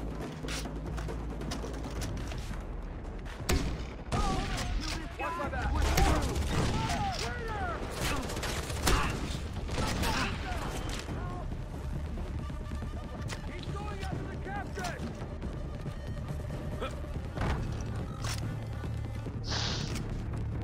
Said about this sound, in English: God, have you seen the explosions?